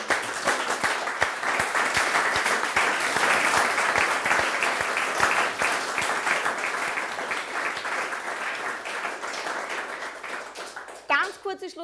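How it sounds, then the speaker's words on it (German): Loud, sustained applause from an audience at an evening talk and discussion event fills the room with dense clapping, tapering off at the end as a voice briefly speaks. "Ein Applaus für alle."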